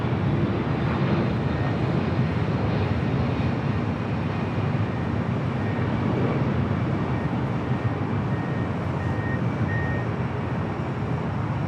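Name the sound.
Delta Boeing 767-300ER arriving at LAX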